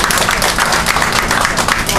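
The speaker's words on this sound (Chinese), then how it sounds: "来来鼓掌起来。" Applause from a crowd at a company year-end banquet, steady dense clapping filling the whole moment at close range without a break.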